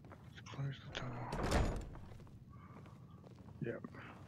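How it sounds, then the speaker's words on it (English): A door closing in Skyrim VR, a heavy thump in the middle with footstep-like knocks around it, moderately close, while a person speaks at the start and end. "Let's close the door."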